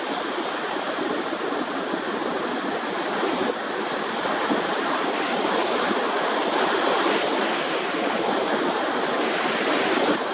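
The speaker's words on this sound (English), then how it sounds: "Could probably hear the wind pick up as I stepped under the pier here" Steady wind rushing and buffeting beneath a beach pier on the shore, a southwest breeze of about 12 miles an hour, mixed with broad surf-like noise that holds loud and constant throughout with no talking.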